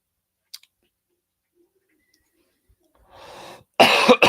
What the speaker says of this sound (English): Really sorry about the cough